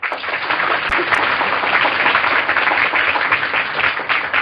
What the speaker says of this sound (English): give the cast the volume of applause they deserve